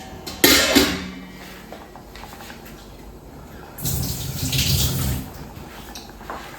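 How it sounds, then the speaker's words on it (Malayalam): Water poured from a tap or vessel into a cooking pot in a home kitchen, two separate splashing bursts, the first brief and sharp, the second longer and steadier, fairly close with no talk. "അല്പം വെള്ളം കൊടുക്കും."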